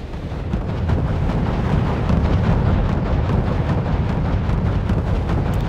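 Havoc attack helicopters firing on flak panzers in the Wargame: European Escalation battle game, a loud dense rumble of overlapping blasts and rolling detonations sustained throughout, close and heavy with no talking.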